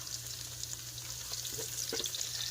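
Garlic frying in a pan while making spaghetti, a steady soft sizzle with faint crackles and a few louder pops toward the end, with no talk.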